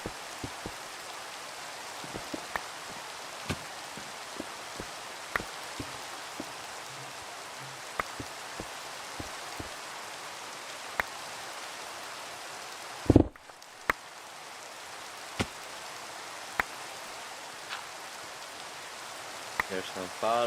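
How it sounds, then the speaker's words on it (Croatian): Steady light rain falling in the video game SkyFactory, a soft continuous patter with scattered sharp droplet ticks, plus one louder thump partway through. "dok kiša pada, čini mi se"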